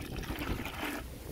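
Murky pond water poured from a scoop into a pail during a freshwater exploration, a steady splashing trickle lasting a moment, close and fairly loud, with no talking.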